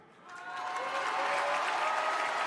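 Applause from a large political rally crowd in Saint-Denis swells after a brief quiet start into steady, dense clapping, with faint voices and cheers woven through it.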